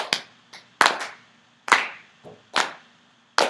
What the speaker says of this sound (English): So you guys all keep clapping